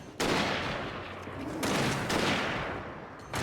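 Gunfire in the Alan Wake shooter game, with several loud close shots, each followed by a long decaying boom and heavy echo, in an overlapping irregular sequence.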